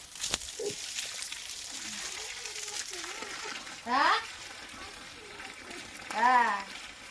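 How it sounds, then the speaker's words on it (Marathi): Water from a hose runs down onto garden plants, including a jasmine bush, as a steady soft hiss throughout, with a few brief louder voices breaking in. "अरे यार पाणी खाली चाललं फार"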